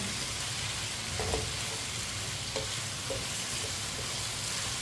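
Spiced potatoes cook in a pan and are stirred, a continuous soft sizzle with occasional light scraping taps, close and unbroken by speech.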